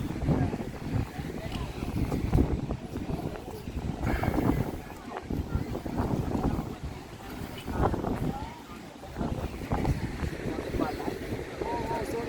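Gusty wind buffets the microphone outdoors on a sunny street, a rough low rumble that swells and fades in waves while people talk throughout.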